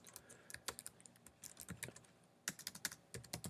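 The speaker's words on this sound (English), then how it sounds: "We're just going to type this" Fingers tap out text on a computer keyboard in a quiet room, a rapid, uneven run of light clicking keystrokes with brief pauses between bursts.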